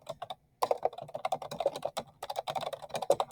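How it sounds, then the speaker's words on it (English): Keys clatter on a computer keyboard in quick, uneven bursts of close typing, with a short pause near the start. "I'm going to start typing my annotation there"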